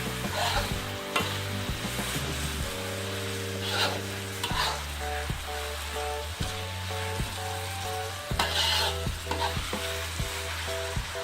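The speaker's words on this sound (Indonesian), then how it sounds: "Ini harus diaduk-aduk sampai merata agar semua daun pucuk ubinya" Cassava leaves sizzle and crackle in a hot pan while a utensil repeatedly scrapes and stirs, with steady frying noise throughout and no talking.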